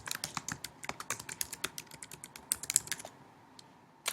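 Rapid keystrokes on a computer keyboard entering a title, crisp close clicks in an uneven burst that slows and stops near the end.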